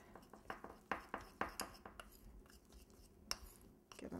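A spoon works yellow food colouring into icing, making a steady run of soft, close clicks and scrapes against the bowl that are quiet and irregular in rhythm.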